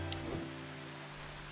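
Rain in the video game Dead in Vinland, a faint, steady patter of falling rain under a low ambient hum, brief and continuous.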